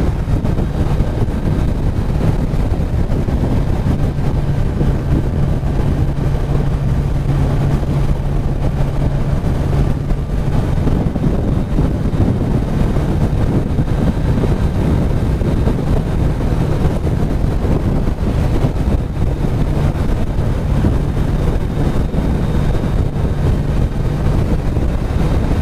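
A Kawasaki Ninja 1000 motorcycle is ridden at speed while overtaking vehicles, and its engine drone is heavily buried under loud, constant wind roar for the whole stretch.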